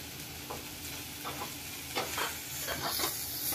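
Ground spices (red chilli, turmeric, salt, coriander powder and pav bhaji masala) for paneer bhurji sizzle steadily in a hot pan as a spatula stirs and scrapes through them in short repeated strokes, close and continuous.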